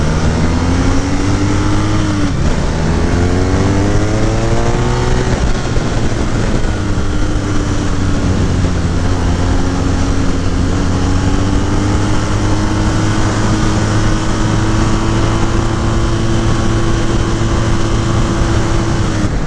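A 2018 BMW R nineT motorcycle engine pulls steadily and loudly while riding, its pitch rising through early gear changes then holding a constant drone, with no talking.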